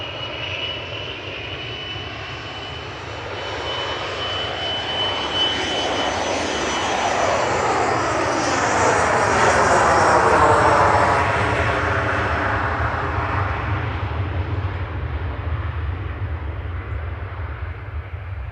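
An Embraer ERJ145 regional jet takes off at Manchester Airport, its engine roar swelling loud and close as it passes and then fading, heard alone without talk.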